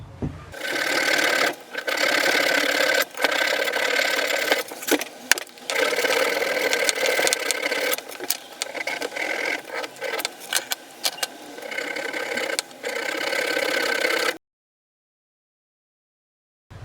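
Drill boring holes through the top of a metal part for a homemade wire stripper, a loud, continuous high whine with brief dips and clicks, close up and alone, then sudden silence near the end.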